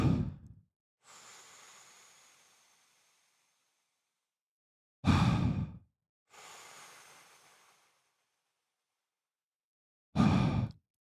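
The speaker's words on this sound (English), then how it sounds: "So the straw breath sounds something like this." Straw breathing exercise: three sharp, loud inhales drawn through a straw, each followed by a long, soft, airy exhale that trails off, in a slow, repeating rhythm with no talk.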